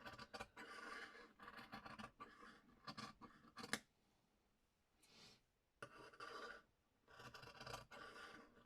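Rasping, scraping snips of scissors cutting on a glass surface come in several bursts separated by short pauses, close and fairly quiet.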